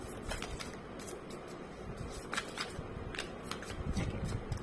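Cards riffle and slide in quick papery bursts, with soft irregular flicks and taps close by, fairly quiet and without talking.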